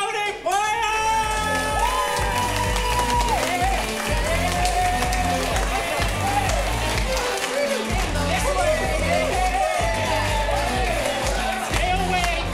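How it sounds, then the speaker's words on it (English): At an improv comedy show, the audience cheers and whoops for the Curious Comedy Players over loud, steady music, a continuous crowd roar throughout. "give a round of applause to the Curious Comedy Players!"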